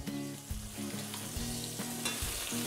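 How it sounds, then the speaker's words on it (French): Andouillette sausages in natural casing brown in a pan, a continuous close sizzle with intermittent scraping and shifting of the sausages, alone and without voices. "quand vous faites colorer des andouillettes"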